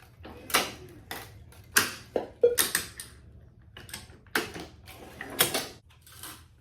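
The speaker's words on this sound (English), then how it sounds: "you can watch when I'm releasing the string clamp at the top right there. So this is my normal clamping speed." A racquet stringing machine's string clamp releases at normal speed, giving a series of sharp, close mechanical clicks and clacks in an irregular rhythm in a quiet room.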